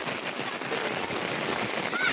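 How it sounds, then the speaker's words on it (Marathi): Heavy rain pours down at an outdoor picnic spot, a dense steady hiss of falling water close by and continuous throughout. "भरपूर पाऊस चालू आहे इथे."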